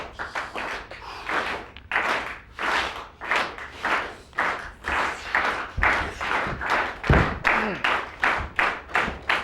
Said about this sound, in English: we can do a good old-fashioned slow Rudy clap